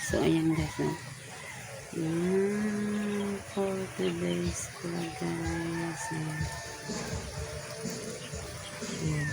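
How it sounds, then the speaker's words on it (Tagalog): A rooster crows several times nearby, long drawn-out calls repeating through the clip, while someone talks over it. "Ayan yung manok dyan guys."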